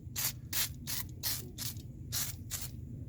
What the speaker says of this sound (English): So I'm going to go with this penetrant first, and then we'll clean it with the brake clean